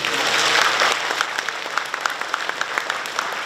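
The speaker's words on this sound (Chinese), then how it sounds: "然后我们要把掌声献给每一位在台上的演员和他们的家长" An audience applauds after a dance performance at a school's tenth-anniversary show and awards ceremony, the clapping dense and full at first before thinning into scattered claps.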